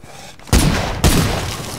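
Two loud, sharp gunshots about half a second apart in the zombie survival game State of Decay, each followed by a brief echoing tail, close and alone.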